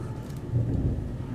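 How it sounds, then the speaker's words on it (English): A low rumble of thunder from an approaching thunderstorm in the UK, a single rolling swell that builds briefly and lingers, fairly distant and dull, with no voices. "one thunderstorm coming"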